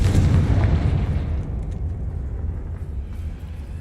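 Fire-spell blast from Confringo in Hogwarts Legacy: a loud, deep explosive boom at the start that rumbles and slowly fades over a few seconds, with no voices.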